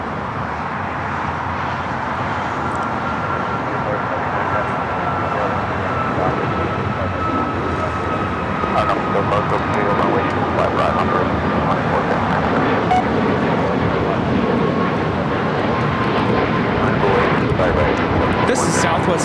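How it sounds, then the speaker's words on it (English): A Southwest Airlines Boeing 737 MAX 8 takes off at LAX, a sustained, loud jet roar that swells slightly and holds for the whole stretch, with wind buffeting the microphone outdoors. "This is Southwest Airlines 117 taking off to Phoenix on the MAX 8."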